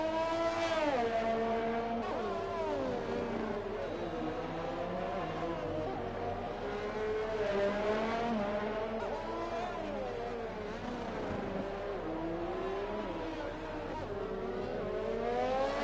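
F1 2020 race cars in a Singapore street race, with high, whining engines rising and falling through gear changes and cars passing one after another, steady and moderately loud.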